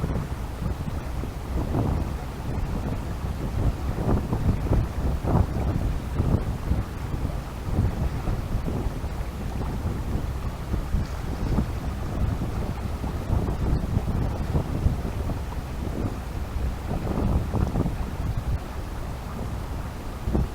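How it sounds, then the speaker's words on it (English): Wind of about 10 mph buffets the microphone on the River Humber during cod fishing, a continuous loud rumbling blow with gusty surges. "Wind has started to pick up now, it's about 10 miles an hour."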